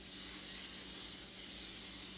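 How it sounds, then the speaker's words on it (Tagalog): Original canola oil blend cooking spray hisses onto a pan in one steady, close, continuous burst. "spray the pan"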